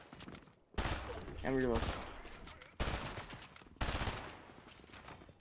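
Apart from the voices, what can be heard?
gunfire in the video game Fortnite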